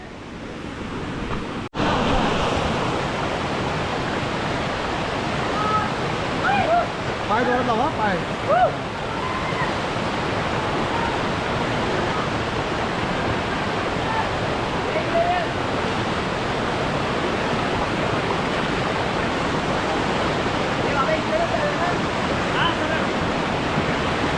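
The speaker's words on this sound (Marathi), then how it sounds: "पाण्याचा फ्लो म्हणजे हा ओढा" A monsoon-swollen stream on the trail to the Savatsada waterfall rushes in a steady, broadband roar close by, with wind buffeting the microphone and occasional voices beneath the water noise.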